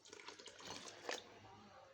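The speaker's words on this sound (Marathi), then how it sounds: "आता असं हे गरम पाणी टाकायचं" Hot water is poured into a vessel of curdled cream mixed with curd, a soft, steady trickling splash that stays faint, ending with a sharp knock.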